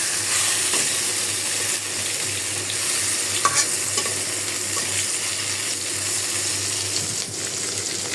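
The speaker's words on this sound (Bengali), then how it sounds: "বেগুন এই 3টা ভাজলেই হয়ে যাবে" Eggplant slices fry in hot oil in a pan, with a continuous crackling sizzle close by and occasional light scrapes and clicks as they are moved, and no talking.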